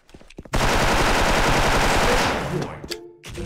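A DREAD M4A1 rifle in the Special Force shooter game fires a sustained, loud automatic burst lasting about two seconds, with a few scattered shots and clicks before and after.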